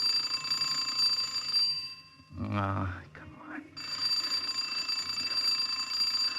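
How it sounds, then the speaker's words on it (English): Doorbell ringing in an old-time radio drama, a continuous bright ringing that cuts off briefly while someone speaks, then resumes and keeps going at steady loudness. "I must have rung that bell till my finger wore out."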